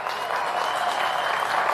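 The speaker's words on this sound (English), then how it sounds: "He just heard other people clapping" Audience at a college commencement ceremony applauds in a dense, steady wash of clapping from a large crowd, continuous throughout.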